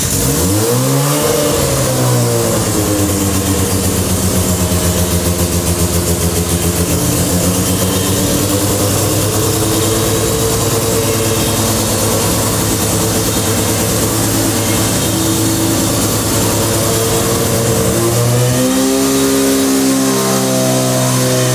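A rebuilt Mazda RX-7 FD rotary engine starting for the first time: loud, close engine note that rises in revs, holds at a steady buzzing idle-to-midrange hum, then climbs again near the end.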